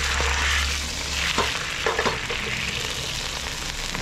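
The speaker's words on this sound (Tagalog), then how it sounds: "start na tayo mag-gisa" Close, steady frying sizzle in a pan as garlic and onion are sautéed with tuna broth for tuna carbonara, with a few stirring scrapes and no talking.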